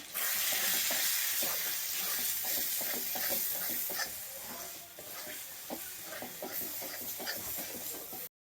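Coriander powder and turmeric are stirred into a hot frying pan of spiced mixture, producing a continuous loud sizzle and hiss cut by rhythmic scraping strokes of the spoon.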